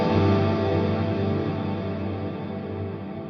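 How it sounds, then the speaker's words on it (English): An electric guitar played through a concert hall reverb rings out as sustained, washy tones that decay slowly, with steady level and no voices. "This is a concert hall reverb."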